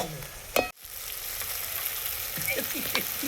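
Brinjal fries in oil in a village kitchen, with a steady hiss of sizzling. A sharp clatter breaks in early, then brief silence before the frying resumes. A few light scrapes follow, and no one speaks.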